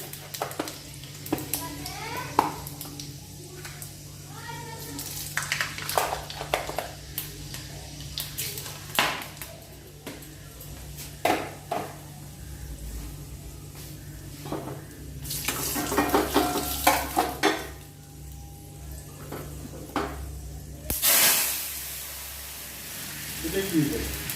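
Five-spice seeds tempering lentil dal in a hot pan, sizzling in bursts with scraping stirs and clinks of a utensil against the pot, with scattered talk over the cooking.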